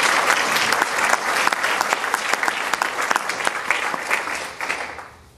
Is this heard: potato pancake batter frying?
no